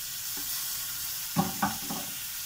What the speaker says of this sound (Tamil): இப்போ நம்ம தக்காளி சேர்த்துடுறேன்